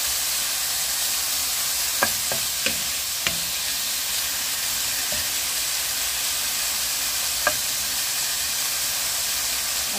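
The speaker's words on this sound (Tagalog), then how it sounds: "Ilagay na natin tong bacon. At hintayin lang natin kung mag-golden brown." Bacon frying in a pan until golden brown gives a steady, soft sizzling hiss throughout, with a few faint clicks and pops scattered over the ten seconds and no talking.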